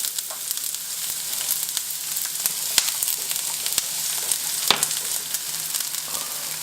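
Chopped white onion and green chilies frying in a pan on a stovetop, a steady close sizzle with faint crackles and a few sharp pops, no talking.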